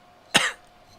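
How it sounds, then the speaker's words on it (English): One short, harsh cough, close and alone against a quiet background. "Pardon my cough."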